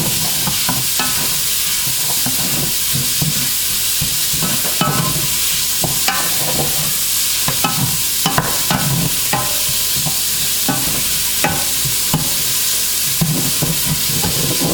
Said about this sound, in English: I'm going to saute this for a few minutes